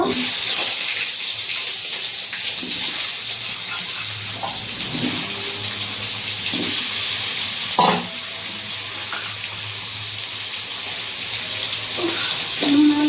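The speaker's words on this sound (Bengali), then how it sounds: "তেল গরম হয়ে গেছে আলুটা ভেজে নেব" Potatoes fry in hot oil in a wok with a constant hissing sizzle, broken by several clattering stirs and knocks of a utensil against the pan.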